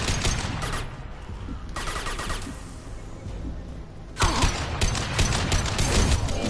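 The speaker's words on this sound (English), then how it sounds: "Taking heavy fire." Heavy gunfire in a video game firefight: dense, loud bursts of rapid shots and mechanical rattling roll on, dip briefly, then surge back harder near the end.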